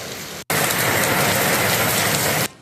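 Heavy downpour pours steadily and loudly as a dense, hissing roar of rain, cutting in after a brief silence, holding constant for about two seconds, then stopping abruptly.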